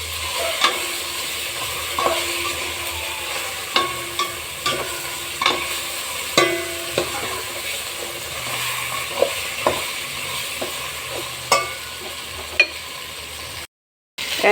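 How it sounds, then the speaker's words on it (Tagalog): Chili and canned tuna sautéed in a hot pan for dining-ding, with a low continuous sizzle broken by a dozen or so sharp spatula taps and scrapes against the metal, close and alone, with one brief dropout near the end. "Igisa po natin."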